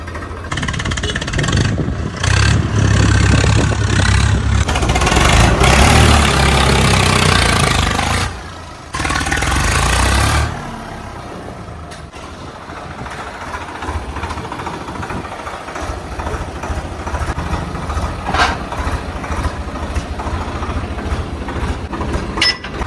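A Swaraj 855 tractor engine runs loud and close, rumbling heavily for the first ten seconds before easing into a steadier, quieter idle.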